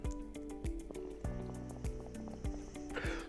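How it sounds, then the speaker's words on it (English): Water bubbling through the glass chamber of a Hydrology 9 vaporizer, a run of repeated gurgling pops in a steady rhythm, close and fairly quiet, with a brief hiss near the end. "it's pretty reminiscent of an OG water pipe or beaker, so you hear that nice bubbling"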